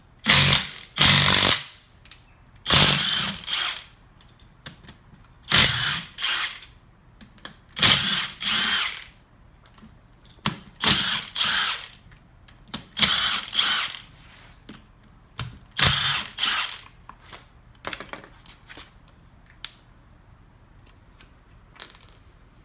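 Power tool working the back case bolts of a BMW E36 differential: about ten loud, sharp impact-tool bursts, each a second or so long, separated by short quiet gaps, close by.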